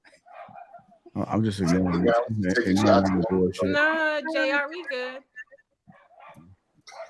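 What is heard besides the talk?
dog barking and whimpering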